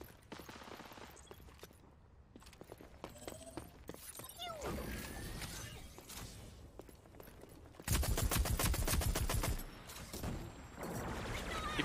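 Bursts of rapid gunfire from a first-person shooting video game crackle in quick volleys, with a loud sustained barrage near the end and softer scattered shots and mechanical clicks between.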